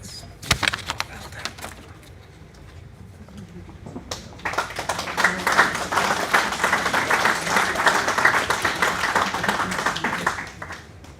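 Applause from mourners at a Welsh funeral service follows a heartfelt tribute to a grandfather. A few scattered claps come first, then a fuller, steady round of clapping builds and continues through to the end, with some voices mixed in.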